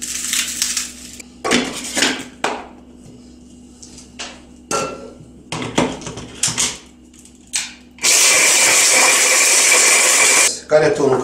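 Stale bread is ground into breadcrumbs in a kitchen appliance for Tekirdağ köfte, with a few short clattering pulses and crunches, then a loud continuous whirring grind lasting a few seconds.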